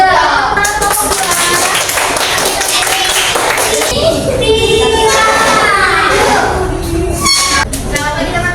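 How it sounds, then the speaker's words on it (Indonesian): A group of students applauds in a classroom: dense, loud clapping fills the first few seconds, then thins out while children's voices and chatter carry on. "Tepuk tangan kelompok dua."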